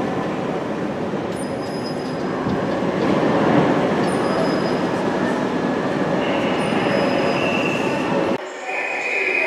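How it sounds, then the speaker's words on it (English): A Southern Class 377 electric multiple unit pulls out of Brighton station, a steady loud rumble of wheels and traction motors with faint squealing tones, continuing throughout before dropping away near the end. "departing now is going to be the 1232 Southern service to Hastings with 377428"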